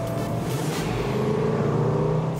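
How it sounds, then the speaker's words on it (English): Bentley Bentayga or Range Rover Sport SVR exhaust with its active valves set to quiet mode, a steady, loud, deep rumble with no talking over it. "Even with the active exhaust kind of toned down, it's still ridiculously loud."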